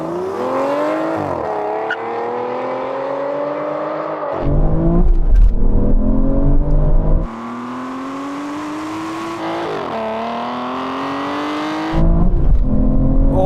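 Aston Martin cars, including a DBS, accelerating hard in a rolling drag race, loud close engine roar climbing through the revs with abrupt drops at each gear shift, repeated across several pulls.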